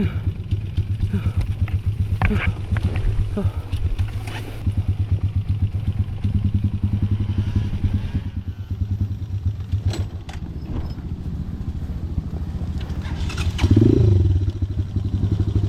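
A motorcycle engine putters and revs steadily at close range while climbing a rocky trail over large rocks, with rattling and clattering from the rough ground throughout, and a brief louder burst near the end.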